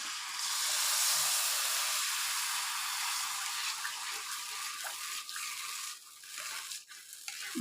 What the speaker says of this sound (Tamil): இதுக்கு அரை டம்ளர் தண்ணி ஊற்றிக்கலாம்